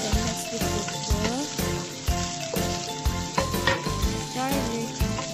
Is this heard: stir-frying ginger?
yes